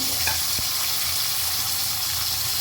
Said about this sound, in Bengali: ভালো করে একটু নাড়াচাড়া করে দিয়ে দেবো